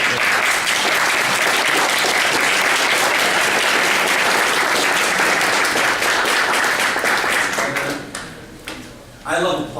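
An audience at a public legislative hearing breaks into loud, sustained applause that fills the room, then thins out into scattered claps near the end.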